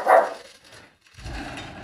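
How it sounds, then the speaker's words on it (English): A dog gives one sharp, fairly close bark near the start, then goes quiet, followed by a lower rumbling noise. "My dog is making a little bit sound, guys."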